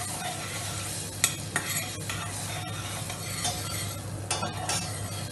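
Onion sautéing in a pan in a teaching kitchen, a steady close sizzle with a few sharp scrapes and clinks of a utensil stirring against the pan.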